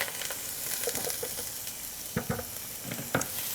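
Lemon zest, chilli, garlic and parsley sizzle in a tablespoon or two of extra virgin olive oil, with steady frying hiss broken by several sharp scrapes and clicks of stirring.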